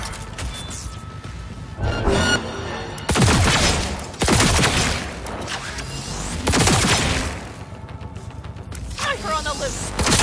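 Heavy sniper rifle shots in Cyberpunk 2077, a few loud cracking blasts with long ringing tails, separated by gaps, mixed with game effects and some talk.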